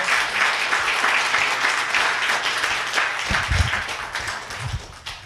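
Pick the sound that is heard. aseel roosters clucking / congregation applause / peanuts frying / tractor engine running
congregation applause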